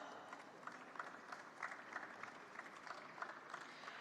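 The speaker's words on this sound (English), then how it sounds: "Can we give him a round of applause?" Audience at a startup festival in India applauds, a steady wash of clapping from a crowd that sounds fairly distant and soft, holding evenly for several seconds with small swells.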